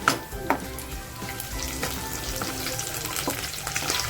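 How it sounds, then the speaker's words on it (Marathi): Onion fries in a pan for a spicy crab curry, a close, constant crackling sizzle dotted with sharp spatula clinks and scrapes, with no one talking. "कांदा सुद्धा छान फ्राय झालेला आहे"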